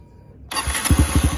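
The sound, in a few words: Honda Start 160 motorcycle with GRS exhaust starting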